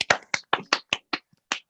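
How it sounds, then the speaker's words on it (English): A round of applause rendered as about eight sharp, separate hand claps, spaced fairly evenly, close and loud with no other sound behind them. "Round of applause for Jamie, please."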